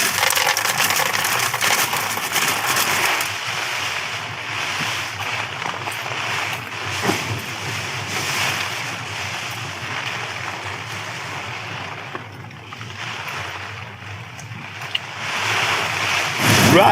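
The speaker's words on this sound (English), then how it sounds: "as I'm sure you can hear by that crazy howling wind and that rain, it has been absolutely relentless" Howling wind and heavy rain batter a camp during a long rainstorm, a loud continuous roaring hiss with gusts swelling and easing throughout.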